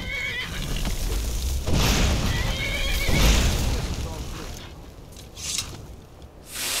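A horse in the Skyrim video game neighs and whinnies loudly over a dense game soundscape, with hoof clip-clops and rumbling effects mixed in.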